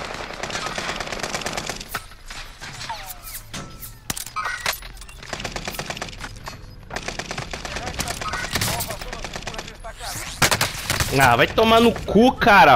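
Rifle and sniper gunfire in Call of Duty: Modern Warfare crackles in rapid bursts and single shots throughout, mixed with game effects and someone talking excitedly over the action.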